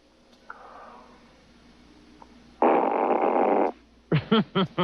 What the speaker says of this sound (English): can you grade a fart that I'm doing here?